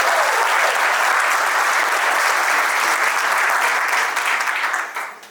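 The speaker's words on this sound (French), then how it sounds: "On acclame très fort." Loud, sustained applause from a gathered crowd at a civil wedding ceremony in Gabon, steady for about five seconds before tapering off at the end.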